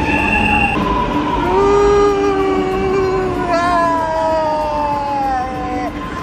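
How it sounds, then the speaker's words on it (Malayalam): A Lucknow Metro train pulls into Charbagh station, a rising and falling electric whine with steady tonal hum filling the platform, loud and close, running the whole time with some crowd noise beneath. "ഇപ്പൊ ട്രെയിൻ വരും, ഇത് കണ്ടാ, ട്രെയിൻ കണ്ടാ. അയ്യോ, എന്റെ സ്പീഡിലാ വരുന്ന നോക്കിക്ക"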